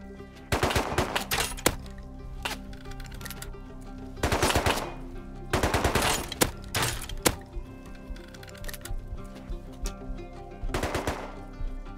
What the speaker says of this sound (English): Shooting at someone else now.